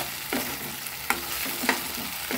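Onions and chole masala frying together in a pan, a continuous gentle sizzle broken by several sharp spatula scrapes and taps against the pan, close up with nobody talking.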